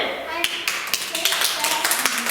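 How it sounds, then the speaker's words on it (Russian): Small children clapping during a preschool classroom quiz, a light, uneven patter of hands over a couple of seconds, with a faint voice in the background. "Аплодисменты."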